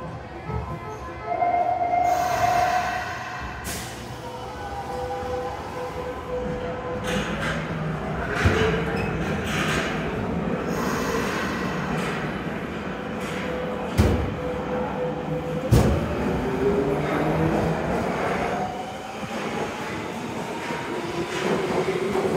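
Meijo Line subway train at Sakae Station in Nagoya, a rumbling underground train with rising and falling motor whine and occasional clunks, heard from platform level for over twenty seconds.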